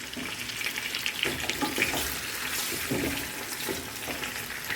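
Pasta fries in hot oil with a bright, continuous sizzle and soft stirring scrapes, close and steady throughout.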